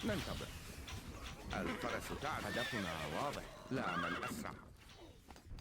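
Horses whinny and neigh loudly in the Stronghold Crusader strategy game, set in the desert, with hoof clatter and other battle noise mixed under a continuous talking voice.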